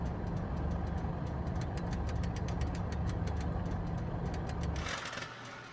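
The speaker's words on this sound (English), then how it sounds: "Perhaps just a slightly gravelly shutdown sound." A Cessna 414 Chancellor piston engine in Microsoft Flight Simulator runs at a rough, gravelly idle with rapid rhythmic clicks, then cuts off abruptly near the end, leaving a brief hiss, with no voices.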